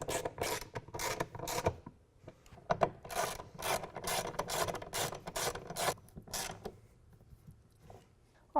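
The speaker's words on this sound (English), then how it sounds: "To tighten these bolts back down, we're going to use a ratchet rather than the impact driver" A ratchet tightens tonneau cover bolts on a 2016 Toyota Tacoma, making close, repeated bursts of rasping clicks in steady strokes that fade out toward the end.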